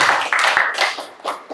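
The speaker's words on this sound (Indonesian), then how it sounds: "tepuk tangan untuk kelompok 1." Short bursts of clapping break out for a student group after a classroom presentation, a few uneven rounds of nearby hand claps lasting under two seconds.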